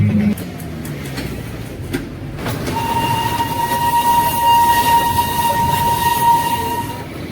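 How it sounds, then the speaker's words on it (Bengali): The Darjeeling toy train at Kurseong station sounds a long, loud steady horn over a low rumble of rail noise, with a few short knocks before the horn begins. "টয় ট্রেন দাঁড়িয়ে আছে"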